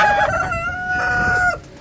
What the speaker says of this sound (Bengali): আর এটি হচ্ছে আমার মিশরীয় ফার্মি মুরগি